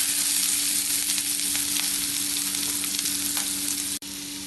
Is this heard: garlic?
yes